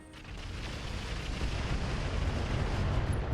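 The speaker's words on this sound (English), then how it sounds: "was a lot of missiles hitting in the Vulcan." Missiles pounding a Vulcan mech in the video game RogueTech, a dense, continuous roar of explosive impacts that swells steadily louder over a few seconds, with no gaps between hits.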